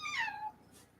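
A house cat gives a single close, clear meow that rises and then falls, with soft room tone after it and no talking.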